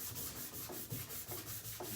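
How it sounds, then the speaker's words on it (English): Rhythmic scuff sanding of a painted wooden nightstand with a 220-grit finishing pad, soft back-and-forth rubbing strokes repeating steadily up close at a quiet level. "That's scuff sanding."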